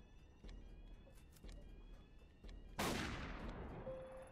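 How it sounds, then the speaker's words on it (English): Gunfire in the video game Tokyo Dark: a single loud, close gunshot with a long decaying tail breaks over a steady, hissy game ambience that carries faint periodic thumps. "It's always shooting something with this woman."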